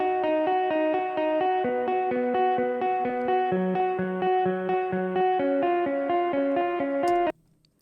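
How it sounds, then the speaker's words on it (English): Distorted electric guitar from the Ilia FMO guitar plugin playing a sustained rhythmic chord pattern with reverb, loud and alone, each chord restruck in steady pulses before cutting off abruptly near the end. "This is made with the Ilia FMO guitar plugin"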